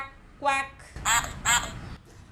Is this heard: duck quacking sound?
yes